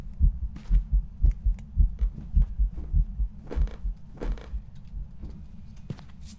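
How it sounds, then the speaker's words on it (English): Heartbeat effect in the ghost-hunting game Phasmophobia, a steady run of deep, muffled thumps pulsing about twice a second over a low hum, with scattered game noises on top. "Hear the heartbeat now?"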